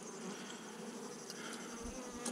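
A honey bee colony buzzes from an open hive box that has weakened, a dense, steady hum of many bees close by, with a few brief louder passes of individual bees.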